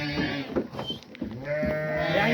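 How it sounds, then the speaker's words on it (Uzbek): Ewes bleat several times in a close flock, their wavering calls overlapping in a farmyard setting with livestock shuffling underneath. "Ona qo'ylar ham bor."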